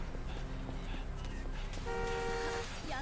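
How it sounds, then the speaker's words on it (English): In Yakuza Kiwami 2, a car horn gives one steady toot of about a second over city street noise and traffic rumble. "Do not honk your horn at me!"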